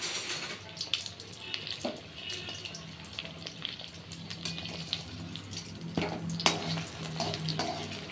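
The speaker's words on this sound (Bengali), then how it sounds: "বেশ লাল করে এটা ভেজে নেব।" Aloo paratha frying in hot oil, a steady crackling sizzle running throughout with occasional louder spatters and faint kitchen clatter, no talking.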